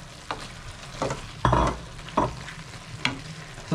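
Pork liver for igado is stirred in a frying pan, a quiet sizzle punctuated by about five distinct scraping strokes of a spatula at a steady rhythm.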